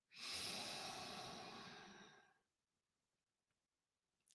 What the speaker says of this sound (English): Now take 3 deep breaths. Inhale and exhale to ground the energy.